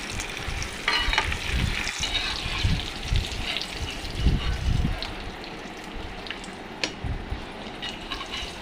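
Halved boiled eggs fry in hot oil for an egg curry, sending up a busy close sizzle with clattering stirs and scrapes and occasional sharp pops throughout.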